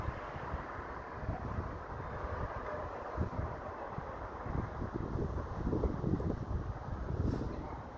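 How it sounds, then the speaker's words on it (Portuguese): Strong wind buffets the microphone on a kite-flying day, a constant low, rough rumble that swells and dips for several seconds with no other clear sound. "o vento tá forte"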